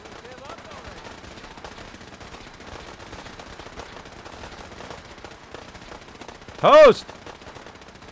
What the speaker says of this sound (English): Creedy using his chain gun. All these peeps down here shooting off their laser weapons